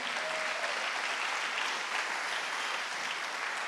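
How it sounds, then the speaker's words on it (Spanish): Steady applause from a church congregation during a Spanish-language sermon, a dense continuous wash of clapping hands held at an even level throughout with no voices rising above it. "Denle un aplauso al Señor."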